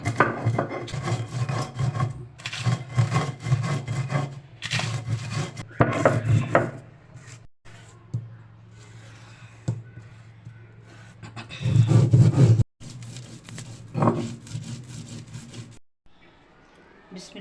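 Roasted dried chillies, black pepper, cloves, cumin and coriander seeds are ground together in bursts of gritty whirring, broken by short pauses and a few knocks, loud and close.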